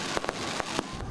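Fireworks at a free year-end concert at Marikina Sports Center, heard as a handful of sharp crackling pops spaced irregularly over a soft, hissy crowd-like background.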